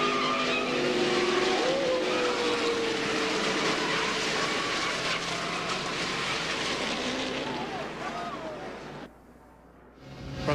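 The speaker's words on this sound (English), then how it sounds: "Now watch this thing pound the wall one more time." A NASCAR Truck Series race truck roars at speed and pounds hard into the wall, engine noise and scraping loud and continuous before the roar drops away abruptly near the end.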